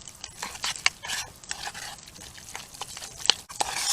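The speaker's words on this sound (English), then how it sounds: "Get our scallions. Dump those in. Mix that all together." Rice thinned with a little water is stirred together with scallions and sauce at a campfire, giving soft, quiet, irregular scrapes and wet squelches with a few sharper clicks of the utensil.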